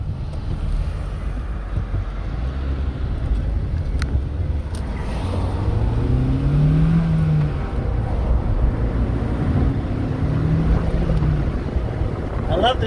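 Acura RSX accelerating on the road, its engine note rising steadily under heavy wind rush from the microphone, heard from close inside the car.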